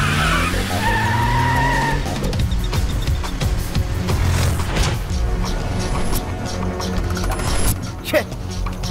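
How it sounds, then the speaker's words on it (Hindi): A car swings around with tires skidding and squealing in a loud, dramatic action scene, screeching sweeps over heavy engine roar and clatter, with voices and score mixed in. "गाड़ी घुमा।"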